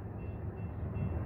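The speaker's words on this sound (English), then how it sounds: "Norfolk Southern eastbound. 29th train of the day." Low, steady rumble of a Norfolk Southern eastbound freight train at the Poplar Street railroad crossing in Fostoria, Ohio, rolling continuously without horn or voices.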